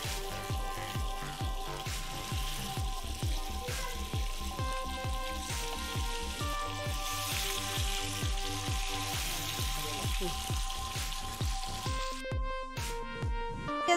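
Fish sizzling and spitting in hot sunflower oil, a steady close crackle that runs throughout, with a rhythmic repeated clatter alongside and a short burst of bright noise near the end.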